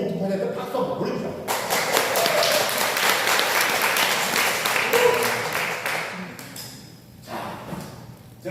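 Audience applause for the body's own autophagy at a healing-camp health lecture, a dense wash of many hands clapping that swells in after a brief lead-in, holds steady for several seconds, then thins out with voices murmuring near the end.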